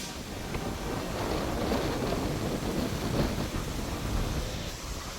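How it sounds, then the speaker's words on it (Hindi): Strong wind roars steadily against the microphone in stormy, cloudy weather at a Nainital hill station, a dense continuous rush with gusty swells and no speech. "और इतनी तेज़ हवा चल रही है।"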